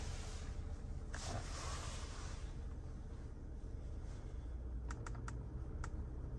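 A few sharp computer mouse clicks, including a quick double click, heard faintly over a steady broadband background hiss while a Helix DSP software update runs on a computer.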